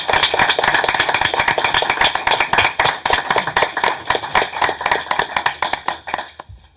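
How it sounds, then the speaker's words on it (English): A city council meeting audience gives a round of applause, dense sustained clapping from many hands, loud and close, tapering off near the end. "Let's just quickly give one more round of applause."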